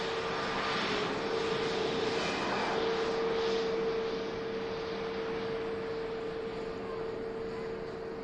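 An EasyJet airliner departing Manchester Airport sounds as a distant, steady jet rumble and whine, with a constant tone running through and no talking.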